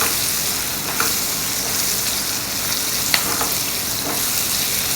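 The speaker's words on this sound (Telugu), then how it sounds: "ఇప్పుడు ఇది ఫ్రై అవ్వడానికి నేను లిడ్ పెట్టుకుని మూత పెట్టుకుని నేను ఫ్రై చేసుకుంటాను." Onions fry in a pan with a steady, close sizzle that keeps going throughout. Occasional soft clinks of a utensil stirring come through over the sizzle.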